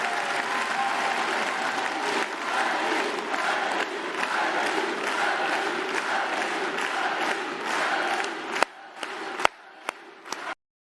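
A crowd at a French European-election campaign rally breaks into loud, sustained applause, a dense steady roar of clapping that holds for about nine seconds and then breaks into a few scattered final claps before silence.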